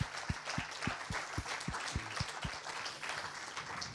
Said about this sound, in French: je voulais commencer par vous proposer de remercier et d'applaudir l'équipe qui a organisé cette journée